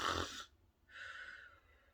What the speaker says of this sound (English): He just carries on snoring.